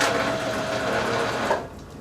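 A sewing machine runs a back stitch on fabric for leggings, a fast steady whirring needle rhythm close to the microphone that stops abruptly near the end.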